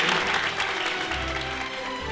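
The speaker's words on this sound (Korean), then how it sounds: "큰 박수 한 번만 더." Audience applause at a 2017 defense start-up challenge ceremony, a steady wash of clapping from a crowd that holds for a couple of seconds at moderate loudness.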